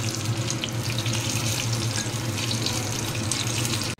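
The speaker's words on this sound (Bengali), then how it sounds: "আলু ক্যাপসিকামের ভেতরে স্টাফিং করে এটার পকোড়া ভাজছি ডিনারের জন্য" Capsicum pakoras stuffed with potato frying in hot oil, a dense continuous crackling sizzle heard close and fairly loud, steady for several seconds before cutting off abruptly.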